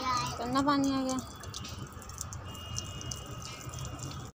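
Tap water running as dirty water comes through, a steady rushing hiss that continues after a brief voiced sound at the start.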